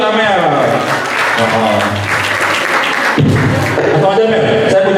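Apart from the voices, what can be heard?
applause for Amel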